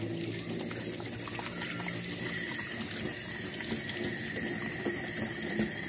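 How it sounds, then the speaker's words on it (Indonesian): Water from a tap runs steadily as washed parts are rinsed beneath it, a continuous close splashing hiss with faint clinks that holds level throughout. "Jadi semua bagiannya harus kita cuci dengan bersih. Nah, setelah itu kita bilas."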